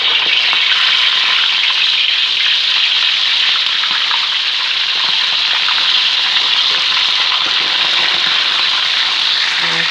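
Loud, steady crackling sizzle of stuffed mackerel scad frying in hot oil, continuous and close, with no voices.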